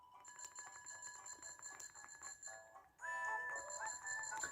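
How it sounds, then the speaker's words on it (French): A handheld bell in the Yo-kai Watch 2 game, ringing in rapid, bright, repeated electronic trills, first sparse and then a denser stretch, fairly faint and with no talk over it. "Fallait pas mettre une sonnette entre mes mains."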